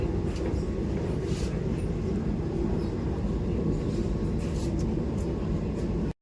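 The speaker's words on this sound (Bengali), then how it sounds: "এরকম স্পিডে চলছে আমাদের ট্রেনের" Constant low rumble and rattle of a Vande Bharat Express train running fast on rails, heard from inside a carriage, steady until an abrupt cut at the end.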